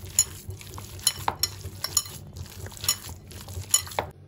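Chicken nugget mixture is worked by hand in a bowl, giving soft wet squishes and light clinks in an irregular rhythm, close up with no talking.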